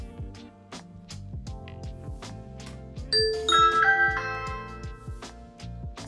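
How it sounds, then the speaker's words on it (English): A Ring doorbell chime plays through an Echo Pop smart speaker, a bright electronic ding-dong of bell tones ringing out clearly mid-clip over a busy musical background, with no talking. "You can now press the doorbell to check that it's worked"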